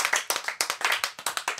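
A small group clapping for a guest on a French television programme, a brief burst of quick, slightly uneven hand claps, close and clear with no talk over it.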